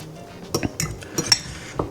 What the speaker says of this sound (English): all we're really going to do is fold that butter into our mix here